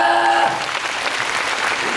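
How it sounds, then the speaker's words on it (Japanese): A crowd at a Universal Studios Japan monster show breaks into loud, dense applause, a sustained roar of many hands clapping after a short tonal sound at the start. "そんぐらい大きい拍手が欲しいんだよ。"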